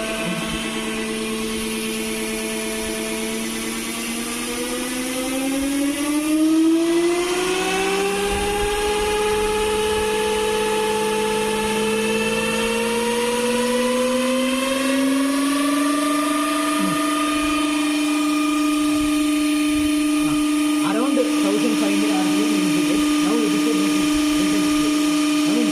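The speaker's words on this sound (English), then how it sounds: "Now we need to keep the rated speed in the motor." A DC motor on a laboratory test rig whines steadily as its speed climbs toward a rated 1500 rpm. The pitch rises smoothly and then holds at a sustained tone, loud and continuous, with faint rattles near the end.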